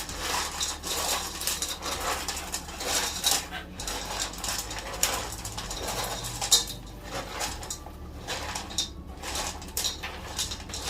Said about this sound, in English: Max is gonna mix it so he don't just go after the meat and leave the kibble.